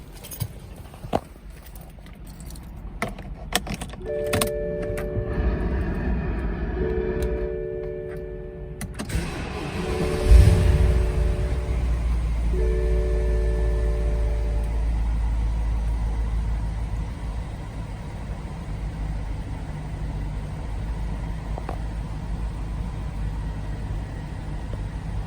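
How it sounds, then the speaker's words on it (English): A 2008 BMW X5 E70 4.8i, fitted with Delphi ignition coils after a misfire, has its ignition switched on, with warning chimes and ticking, then its engine cranks and starts with a burst, then settles into a steady, close, low idle rumble. "Okay, let's run the engine."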